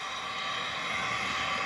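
A 1/7-scale Big Rock RC car on a 3S battery with a Castle Cobra 5 ESC makes a full-throttle pass, a steady high-pitched motor whine holding constant and loud throughout with no voices.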